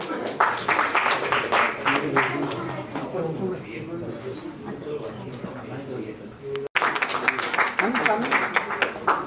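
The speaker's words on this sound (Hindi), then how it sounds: "जोरदार तालियां हो जाए।" An audience in an auditorium breaks into loud applause, sharp clapping bursts at the start and again after a short break, with talk in between.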